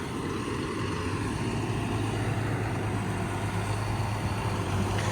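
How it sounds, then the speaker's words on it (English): Light tractor on VF tyres seeding a field for sugarbeet, peas and cover crop with disc openers, a steady low engine drone and rumble running continuously and evenly at close range, with no talk. "It's quite a light little tractor as well."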